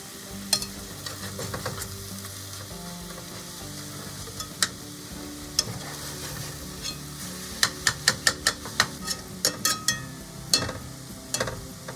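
A spinach and feta omelet sizzles steadily in a frying pan, with scattered sharp pops and a cluster of quick clicks and scrapes from a utensil flipping and stirring, close and fairly quiet.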